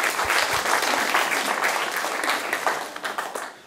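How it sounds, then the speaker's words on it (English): An audience at a university parent evening bursts into a full round of clapping, dense and steady throughout before tapering slightly at the end. "Give an applause."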